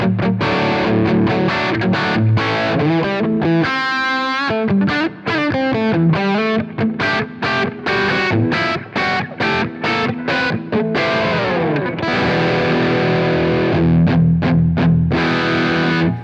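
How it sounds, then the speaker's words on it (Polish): An electric guitar played through a Taurus SH8 Qube distortion pedal gives thick, bass-heavy, coarse overdrive, with loud chords and single-note riffs played continuously and up close. "Troszkę można powiedzieć tweedowe przesterowanie, czyli takie gruboziarniste, sporo basu"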